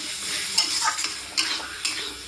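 Four whole onions and two whole garlic cloves sauté in a pan while a utensil stirs them, making a steady sizzle with several sharp scraping strokes, close and fairly loud, with no voices.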